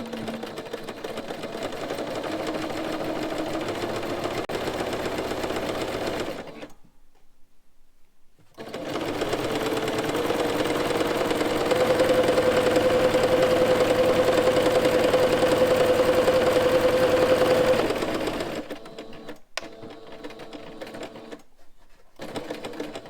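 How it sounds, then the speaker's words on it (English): A sewing machine back-stitches the bottom portion of a homemade fabric face mask, running in a steady mechanical whir for several seconds, pausing, then running again in a longer continuous burst before stopping, close and clear with no talk. "back at the machine, we're going to sew this portion. And for this you do want a back stitch"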